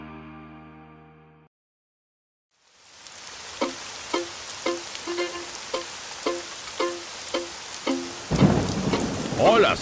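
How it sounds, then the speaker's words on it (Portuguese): Heavy rain and a thunderstorm break out in a children's farm-song cartoon. A short musical phrase and a pause come first, then steady rain with repeated rhythmic pulses, and a loud thunder rumble swells at the end. "Olha só quanta chuva!"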